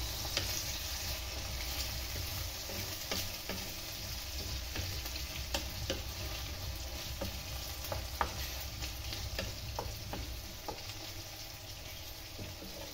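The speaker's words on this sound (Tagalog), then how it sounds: "Lulutuin muna natin yung karne bago natin ilagay yung mga sauce." Meat for spaghetti sauce fries in a pan with a faint, steady sizzle, broken by occasional soft clicks and scrapes of stirring, quiet and continuous with no talking.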